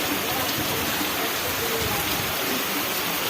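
Heavy rain pours down steadily in a dense, continuous hiss that stays loud and close throughout, with no voices over it.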